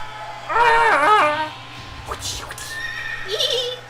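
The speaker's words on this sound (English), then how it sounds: "Well, the horse actually has a" A horse in the video game Valkyrie Profile whinnies loudly once with a wavering, high neigh, followed by quieter clattering and a brief, softer snort-like call.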